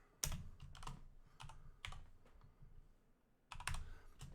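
Keys clatter on a computer keyboard in a few quick, light bursts of taps, fairly faint and close, with short pauses between groups and no talking.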